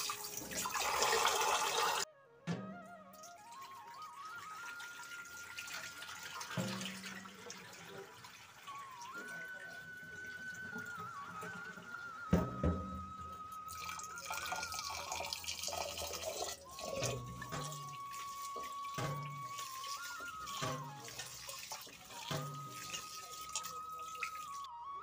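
Rice is washed in water in a home kitchen, with steady running and splashing water, dripping and sloshing throughout, plus occasional clinks of a pot and faint background tones.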